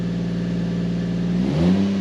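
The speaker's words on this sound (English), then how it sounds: "Give a little vroom." A Toyota JZX100 sits up on ramps with its engine idling in a steady hum, then blips in one short rev that rises and settles back, heard close and alone.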